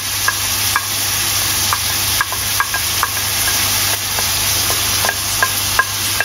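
Chopped shallot frying in a pan for a salmon cream pasta, a steady sizzle close by with occasional light clicks of stirring, no talk.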